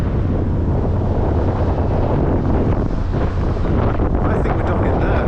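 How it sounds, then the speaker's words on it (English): Strong wind roars across the microphone at a busy container port with ships coming in, a loud, constant buffeting rush that drowns out everything else for the whole stretch. "It's very windy, I hope you can hear this."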